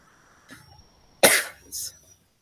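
A single harsh cough close to the microphone, followed by a shorter second burst, with a faint breathy sound just before.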